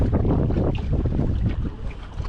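Strong, steady wind of about 15 mph with gusts into the 30s roars and buffets the microphone throughout, with low rumbling gusts and faint water sounds beneath, out on muddy water.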